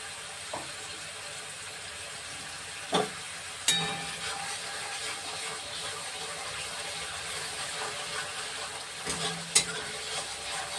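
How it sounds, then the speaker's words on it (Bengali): Mashed raw plantain stirred continuously while it fries in oil in a village kitchen pan, a constant bubbling sizzle with occasional spoon knocks and scrapes against the pan, close, without talk. "অনবরত ঘুরিয়ে ঘুরিয়ে নাড়তে হবে বন্ধুরা, না তো তলায় লেগে যাবে।"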